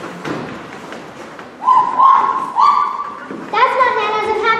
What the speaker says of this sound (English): they began to hear Nana bark